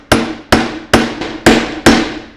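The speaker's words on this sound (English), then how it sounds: "So I'm using a 12-ounce hammer, so I actually have to apply some force." A 12-ounce hammer drives a nail with five sharp, evenly spaced strikes, each a loud close metallic crack with a short ringing decay, no voices.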